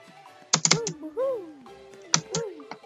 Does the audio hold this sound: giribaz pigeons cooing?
no